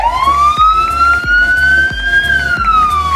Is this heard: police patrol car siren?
yes